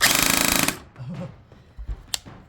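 An Echo1 PMG-5 rotary-barrel electric airsoft minigun fires a rapid, buzzing mechanical burst lasting under a second, close and loud, then cuts off leaving quiet with a couple of faint clicks.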